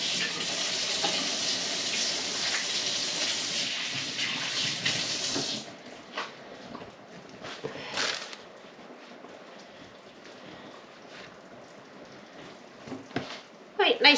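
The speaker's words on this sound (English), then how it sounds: "I can't even turn the camera off until I've washed my hands" Water runs steadily from a kitchen tap as hands are washed mid-way through making homemade lasagna and focaccia, a loud rushing stream for several seconds that then stops, leaving quieter clatter and handling sounds.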